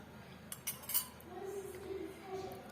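A spoon clinks a few times against a bowl while a spoonful of vanilla is added for a chocolate brioche dough. The quick, close metallic taps are followed by a faint low voice.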